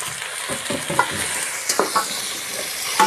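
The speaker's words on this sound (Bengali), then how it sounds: "এটাকে এইভাবে নেড়ে নিতে হবে" Jujubes for pickle are stirred in a hot pan, giving a steady sizzle with repeated scraping strokes and clicks of the spoon, close and continuous with no talking.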